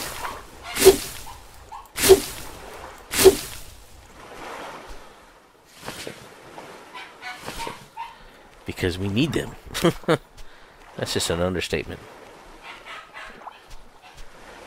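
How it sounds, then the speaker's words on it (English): A pet dog barks in three sharp, loud bursts near the start, then whimpers and yelps intermittently while a person talks over game audio. "I wonder what has my dog all nice and riled up right now"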